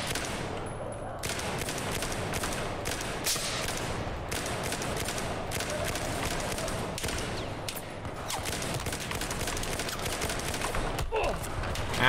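Battlefield 4 gunfire on single-fire mode: a long stream of sharp, closely spaced shots with rapid bursts and distant battle rumble throughout, loud and mostly continuous, with little pause between reports.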